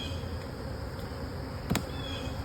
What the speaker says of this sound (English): Plenty of honey, plenty of bees.